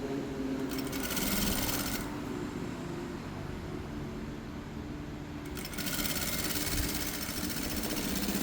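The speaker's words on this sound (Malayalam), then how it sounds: "മറിച്ചിട്ട് കറക്റ്റായിട്ട് നെക്ക് മേലൂടെ സ്റ്റിച്ച് ചെയ്ത് കൊടുക്കുക." A sewing machine stitches along the back neck of a ready-made churidar, a close, fast, even whirring hum that surges briefly in two spurts, with no voices.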